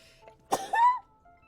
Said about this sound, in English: my sneezes are getting less high pitched